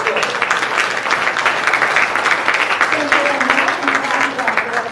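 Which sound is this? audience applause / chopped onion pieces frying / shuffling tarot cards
audience applause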